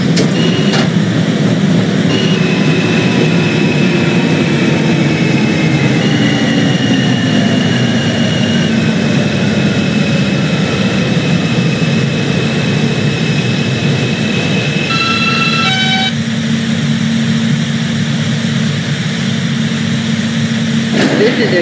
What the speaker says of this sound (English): This is a Queens-bound J train.